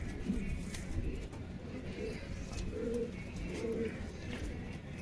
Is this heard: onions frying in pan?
no